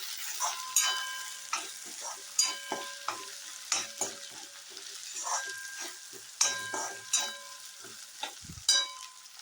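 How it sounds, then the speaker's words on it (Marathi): Potatoes and green peas sautéing in a pan for a matar batata curry, with steady frying sizzle under repeated scraping and stirring strokes of a spoon, close and moderately loud, no talking. "बटाटा थोडासा फ्राय झाल्यानंतर त्याच्यात हे राहिलेले मटार घालायचे आहे. ते पण परतून घ्यायचे आहे."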